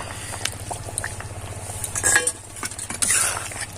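A metal spoon stirs Bengali chicken curry (meat jhol) in a pot, with scraping clinks and soft liquid sloshing over a low steady hum, close and moderately loud.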